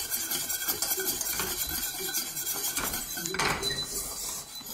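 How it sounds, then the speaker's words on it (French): Butter is whisked into a béarnaise sauce in a pan: a steady scraping, clinking whisk against metal that runs throughout at moderate volume, with no talking. "on continue à fouetter jusqu'à ce que ça refroidisse"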